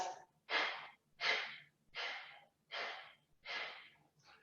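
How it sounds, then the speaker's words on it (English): Deep, slow breathing during a standing yoga twist: six long exhales follow one another at an even pace, close and clear, with no talking. "Inhale. 5 breaths."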